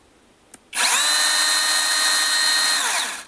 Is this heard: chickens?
no